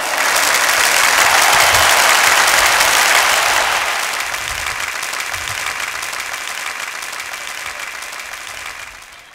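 Big crowd applause welcoming a singer onto the stage at a high school class reunion, loud and dense at first, then easing slightly and holding steady until it fades out.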